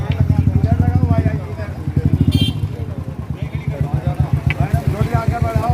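A motorcycle idles and is eased forward on a street, its engine thumping in a fast, regular pulse close by while people talk over it.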